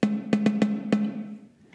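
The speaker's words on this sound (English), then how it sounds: "So if they're not touching, the drum sounds like this." A snare drum struck with its snares disengaged gives five dry, open tom-like hits in a quick, uneven pattern. The hits are close and clear, and the last one rings out and fades.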